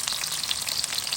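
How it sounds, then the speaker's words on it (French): Pork and vegetables fry in hot oil in a home kitchen, giving a steady, dense sizzle with fine crackling pops throughout, close and constant with no voices. "Bien noyé dans l'huile chaud."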